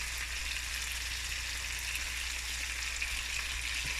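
Sliced onion sizzles steadily in a pan with tomato paste while a spaghetti and smoked herring dish cooks, a constant hissing fry with no talk.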